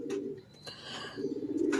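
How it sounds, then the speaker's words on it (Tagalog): A pigeon coos close by in two low, throaty bursts separated by a short pause, fairly quiet with faint background noise. "Pakita ko sa inyo yung kalapati ha"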